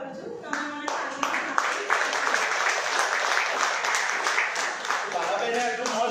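An audience at a magnetic product demo in a hotel applauds with sustained, dense clapping that stays even for the whole stretch, with voices mixed in beneath.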